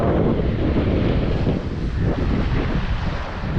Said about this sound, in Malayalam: ഇവിടെ എന്താ തിര വളരെ ചെറിയ നിരക്കുള്ള തിരയാണ്